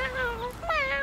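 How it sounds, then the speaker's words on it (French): A small kitten meows in two drawn-out, high, wavering cries, close and fairly loud, with a short gap between them. "Regarde, c'est un tout petit chat."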